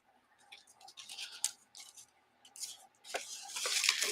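Thread is pulled through material by hand while sewing, producing soft, close scratchy swishes in irregular strokes that grow longer and louder toward the end.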